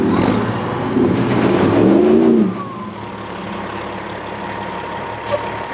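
A truck revs hard as it yanks a stuck vehicle free with a kinetic energy rope, the engine roaring loud and close for about two seconds, then dropping to a steady idle rumble with a brief knock near the end.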